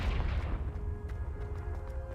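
A fiery Confringo spell blast in Hogwarts Legacy, a deep booming burst at the start that rolls off into a low rumbling tail with faint scattered crackles.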